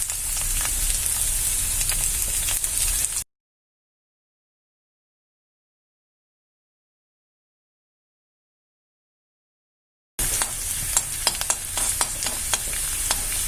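Sliced garlic fries in hot oil with a loud, dense, steady sizzle and some stirring. It runs for a few seconds, cuts to silence for about seven seconds, then returns just as strong.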